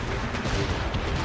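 Ship cannons firing in Assassin's Creed Rogue, a brief, dense burst of booming artillery blasts that rumble loudly and overlap without a break.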